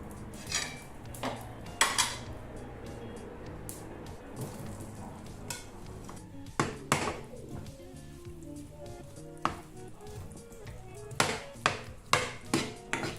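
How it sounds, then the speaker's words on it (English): Vegetables in an oiled frying pan cooking for a breakfast dish, with a steady sizzle under repeated clinks and scrapes of a utensil against the pan, close up and with no talking. "So we'll add oil to our pan. So we're going to add our vegetables."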